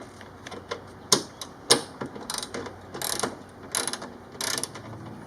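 A ratchet wrench with a 10mm socket loosens bolts on a 2017 Honda Civic Hatchback Sport roof spoiler, giving close, crisp clicking bursts in irregular runs with sharper pulls between them.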